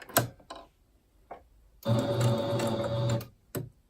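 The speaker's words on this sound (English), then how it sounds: "I'm going to sew in the wrong direction for a second." A sewing machine stitches fabric in one short, close burst of about a second and a half, with a few sharp clicks and taps before and after it.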